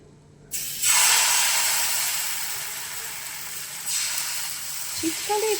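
Ghee bursts into a loud, steady sizzle as it hits a hot pan for patishapta pitha, a bright hiss that starts suddenly, holds, then dips slightly before a few crackles near the end.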